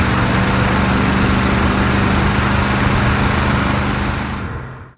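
The engine of a 1970 Lincoln Continental Mark III roars loud and steady under acceleration during a test drive, a dense, broad, continuous rush of engine and road noise that cuts off abruptly at the end.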